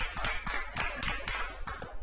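A small crowd at Mike's Bar and Grill applauds in a sports-show bar setting, with rhythmic, fairly close claps repeating steadily in sparse bursts for a couple of seconds.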